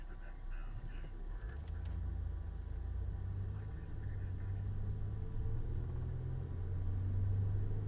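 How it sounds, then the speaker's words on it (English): A low engine rumble swells and holds steady as a motorcycle with a rough, odd-sounding exhaust passes on an Austin street, heard from inside a vehicle with faint background noise. "That motorcycle is retarded sounding."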